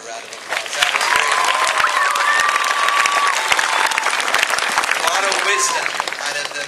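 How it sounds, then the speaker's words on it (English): Warm, steady applause rises from the audience at an 8th-grade commencement ceremony for two graduates, continuous dense clapping with a few cheers and voices mixed in, tapering slightly at the end. "Let's give Melissa and Jade another round of applause"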